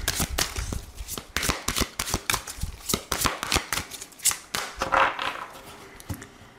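Tarot cards being shuffled by hand in a steady run of close, crisp riffles and slaps, with a brief pause near the end and no talking.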